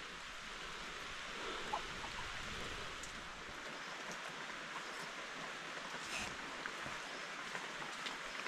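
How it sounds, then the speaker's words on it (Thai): Steady rain falls across a forest farm in Thailand, a soft, even broadband hiss of drops on leaves and ground that continues throughout, with occasional brighter splashes and no talking. "ฝนตกแล้ว"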